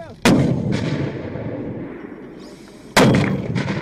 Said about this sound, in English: We are firing direct fire from the 81 mm mortars Dutch, and for the Czech 82 mm mortars and the 60 mm.